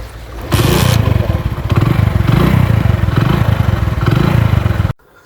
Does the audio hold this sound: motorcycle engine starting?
yes